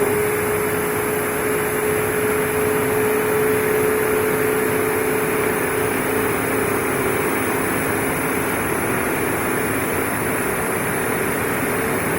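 A homemade log splitter driven by two washing machine motors spins at about 3300 rpm, giving off a steady, unbroken whine and hum close by with no change in pitch.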